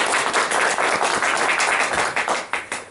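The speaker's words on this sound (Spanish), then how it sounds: "Muy bien, un aplauso." Audience clapping after an academic presentation in Stockholm, a short burst of dense, loud applause that holds steady and begins to thin out toward the end.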